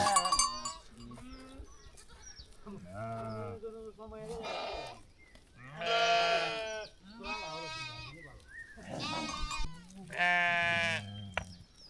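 A flock of sheep bleats on a Himalayan hillside pasture, several wavering calls from different animals overlapping near and mid-distance, with gaps of quieter background between bursts.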